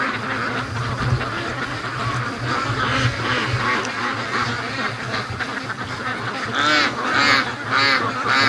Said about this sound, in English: we've got a duck train to the lake